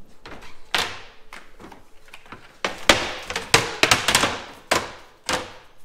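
A magnetic dog door flaps and snaps shut as a dog pushes through it. Sharp plastic clacks sound up close in irregular bursts, some single and some in quick doubles and triples, with quieter rattles between them and no voices.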